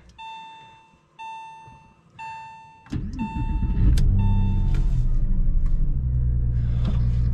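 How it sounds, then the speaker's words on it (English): A 2000 Porsche 911 (996) starts from cold: a few repeated electronic warning chimes, then the starter whirs and the flat-six catches and settles into a steady, loud rumbling idle up close. "I'll give you guys a quick cold startup."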